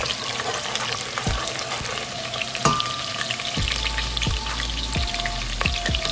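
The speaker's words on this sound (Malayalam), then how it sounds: "ഇനി എണ്ണ ചൂടായതിനു ശേഷം നമ്മൾ ഇതിലേക്ക് പച്ചമുളക് അതുപോലെ തന്നെ വെളുത്തുള്ളി ചേർക്കുക. ഇത് നല്ലോണം ഇളക്കുക." Green chilli and garlic fry in hot oil, a steady close sizzle and crackle broken by occasional clanks and scrapes of a spoon stirring in the pan.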